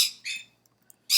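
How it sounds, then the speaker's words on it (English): Pet birds squawk loudly nearby in two harsh calls, then a third burst after a short quiet pause with faint chirps between. "those are my birds"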